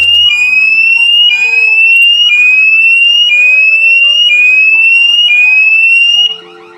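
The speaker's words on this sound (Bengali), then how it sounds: "সাথে বাজবে অ্যালার্ম অনেক জোরে" A Verbex VT-AW301 WiFi door sensor alarm rings loudly close up, repeating a shrill rising tone about once a second for six cycles, then cuts off abruptly.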